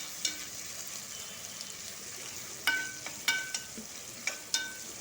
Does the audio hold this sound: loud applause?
no